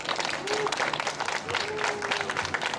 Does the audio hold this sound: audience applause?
yes